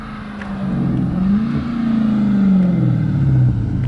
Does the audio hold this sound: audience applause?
no